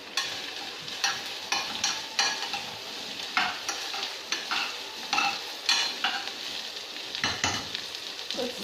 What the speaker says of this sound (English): we're gonna use a spoon and we're gonna toast this until it's good and golden